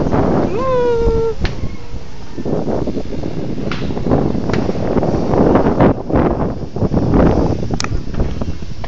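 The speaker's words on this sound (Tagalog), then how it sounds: "Napakahangin dito." Strong wind buffets the microphone at a Legazpi City skyline viewpoint, a steady rough rumble throughout with a brief whistling tone near the start and a few faint clicks.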